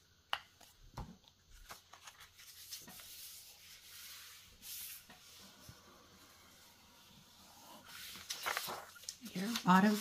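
Rubbing on a glued flap of a 12x12 scrapbook paper envelope to press it down, with close, soft swishing strokes and a few taps that grow busier toward the end, with a voice briefly present.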